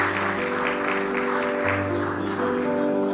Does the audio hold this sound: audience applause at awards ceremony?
yes